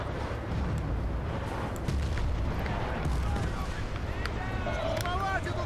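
A grenade goes off in Battlefield Bad Company 2 amid dense, rumbling in-game battle noise, a broad, steady roar with scattered blasts and no clear standout bang.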